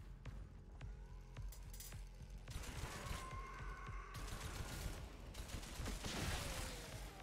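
An enemy turret in the dark horror shooter SCATHE fires a steady stream of rapid clicking shots, joined partway through by a louder roaring burst and whooshing effects, sustained but fairly low in level.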